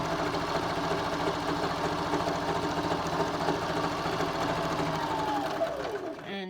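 A sewing machine runs steadily while stitching a zipper closure at about 2.5 stitch length with a small back stitch, a continuous mechanical whir throughout that slows and stops at the end.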